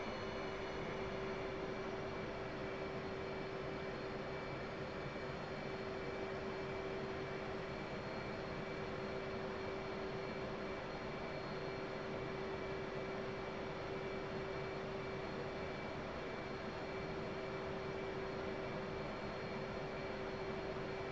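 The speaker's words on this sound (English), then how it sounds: "Check left and right for increase engine RPM and enter the runway." F-18 jet engine on the runway in a flight simulator game, a steady loud roar with a sustained whine, unchanging for the whole stretch and alone without talk.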